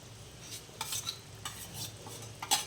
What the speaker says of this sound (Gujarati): હવે આ બધું મિક્સ કરી લઈશું.